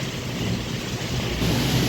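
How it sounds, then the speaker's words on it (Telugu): Strong storm wind roars steadily, a dense whooshing rush that swells slightly toward the end, with no voices. "బాగా తుఫాన్ గాలి వెళ్ళి వస్తుందా?"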